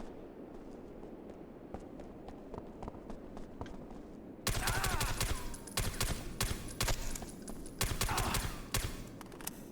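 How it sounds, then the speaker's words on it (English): Rapid bursts of gunfire in the video game SOCOM US Navy Seals II. Shots crackle steadily at first, then become a louder, denser stretch of automatic fire and blasts midway, with no talking. "Very American shooting."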